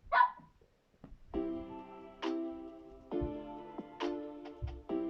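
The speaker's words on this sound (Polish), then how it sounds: "żeby mojego psa nie było słychać" A nearby dog barks several times in short, sharp bursts, separated by brief pauses, with a higher yip at the start.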